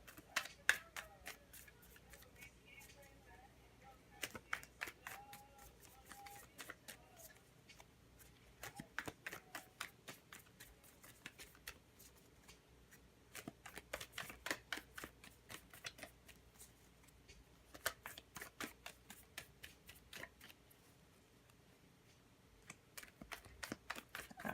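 Tarot cards being shuffled by hand for a reading, a long run of soft, rapid riffling and flicking bursts close by, steady and quiet with brief pauses between passes.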